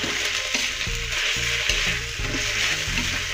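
Half-cooked spinach sautés in a pan after salt goes in, with a continuous close sizzle broken by repeated stirring scrapes and no voices.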